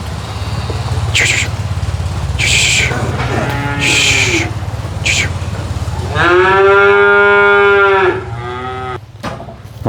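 Cattle moo loudly and up close at a night livestock market. Several long, drawn-out calls rise over a constant background of crowd and market noise.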